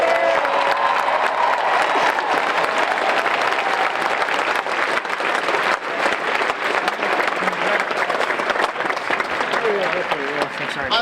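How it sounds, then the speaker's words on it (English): Crowd applause at an outdoor Black Lives Matter protest in a city park, loud and sustained clapping mixed with crowd noise and some cheering, with voices audible beneath it. "Give them another round of applause."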